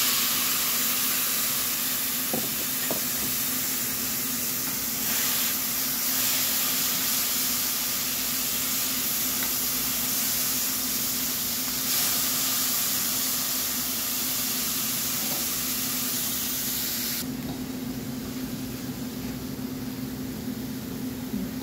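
Chopped tomatoes sizzling on sautéed onions in a pan: a steady, even hiss that holds for about twenty seconds and softens slightly near the end, with no voices.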